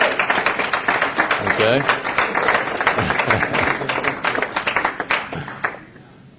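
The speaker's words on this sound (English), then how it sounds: "So by applause, we will see if we can determine our winner." An audience claps and applauds to vote for a contestant in a live contest. The clapping comes as a loud, ragged burst of many hands that swells and then fades out at the end, with a voice briefly speaking during it.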